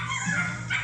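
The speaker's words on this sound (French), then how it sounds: "j'aime pas entendre les chiens couiner comme ça" Dogs whimper and whine in high, wavering cries, close and fairly loud, with a steady low hum underneath.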